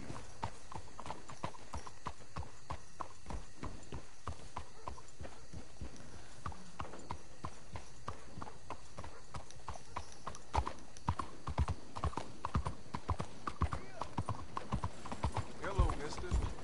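Horse hooves clip-clop steadily in Red Dead Redemption 2, a continuous rhythmic trot with occasional whinnies, mixed under game ambience and people talking.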